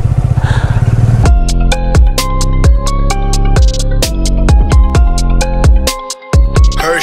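Off-road motorcycle ridden over rough terrain on a mountain trail, the engine loud and close, blipping and revving in a rapid series of sharp bursts with short drops between, then cutting out briefly near the end.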